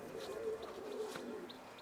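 Soft, low coos of Pakistani breed pigeons in a loft, repeating in a gentle rolling pattern, with a few faint chirps over a quiet background.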